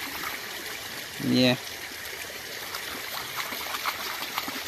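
A dog is bathing and playing in water, with a faint, steady rush of flowing water throughout. A short spoken voice sits briefly over it.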